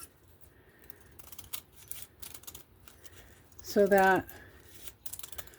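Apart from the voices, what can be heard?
scissors cutting craft board book cover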